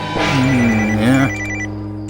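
A phone ringtone plays loudly up close, a sustained melodic tone that shifts pitch and then settles into a steady electronic ring.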